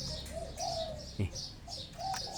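Soft repeated dove coos, rising and falling in short phrases, with faint chirps and a brief flutter in between.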